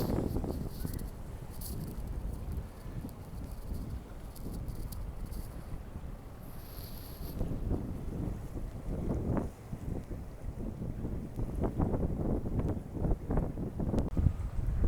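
Gusty wind buffets the microphone in uneven bursts, rising and falling with low rumbling thumps.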